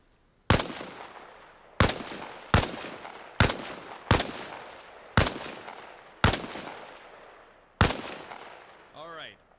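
Eight loud single gunshots ring out one at a time from a weapon on a training range in Arma Reforger, each with a sharp crack and a decaying echo, spaced at uneven intervals, and a brief warbling tone follows at the end.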